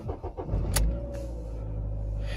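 A Ford Focus Ghia starts up: a brief starter crank, then the engine catches and settles into a steady, close idle rumble with no voices.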